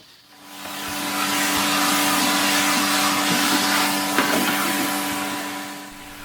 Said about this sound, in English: The wool does generate a lot of fluff, so I give the loom a good hoovering.